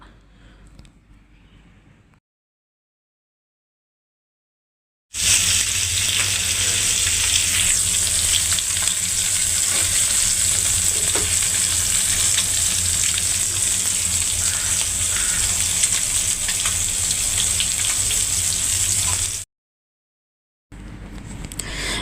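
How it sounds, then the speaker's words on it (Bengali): Fish and fish roe fry loudly in a pan, with a dense, close sizzle that runs for about fourteen seconds between quieter stretches. "এই তো মাছের এক পাশে মাছের ডিমগুলো হালকা করে ভেজে নেব"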